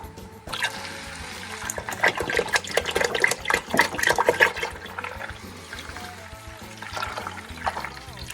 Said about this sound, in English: we're going to add some whole milk